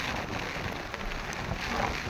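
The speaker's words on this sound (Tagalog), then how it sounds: "Ang lakas ng ulan." Heavy rain during a typhoon signal 9 storm in Hong Kong pours in a steady, dense hiss that fills the whole short stretch without pause.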